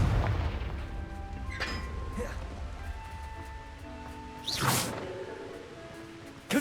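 The Confringo fire blast spell in the game Hogwarts Legacy lands as a booming blast over a low rumbling bed, with a whooshing burst later and a sharp hit at the very end.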